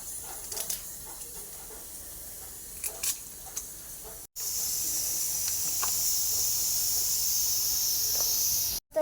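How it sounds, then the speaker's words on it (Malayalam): Curry leaves hit hot oil and set off a sudden loud hiss that holds steady for several seconds and then cuts out, after a quieter stretch of faint crackles. "ഇതിലേക്ക് നമ്മൾ കറിവേപ്പിൻ്റെ ഇല പൊട്ടിച്ചിടാം"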